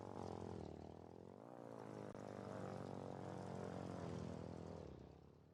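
Propeller plane engine at minimum speed in the video game Foxhole, a steady droning buzz with rising and falling pitch as the aircraft maneuvers, continuous and fairly quiet, no talking.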